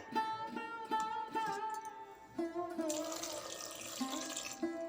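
Water pours into a pressure cooker holding eggplant, potato and tomato, a gurgling stream that rises into a brighter rushing splash midway, with background music throughout.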